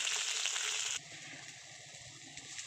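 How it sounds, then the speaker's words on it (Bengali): Potatoes frying in oil for a Bengali jhinge posto dish, a steady close sizzle that is loud at first, then drops to a softer crackle with small pops. "আলুগুলোকে লাল লাল করে আমি ভেজে নেব এই মুহূর্তে"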